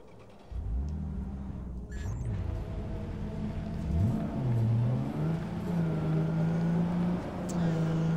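A car driving in Cyberpunk 2077 with a continuous engine drone that rises and falls as the driver accelerates, steady and close, with a person talking over it.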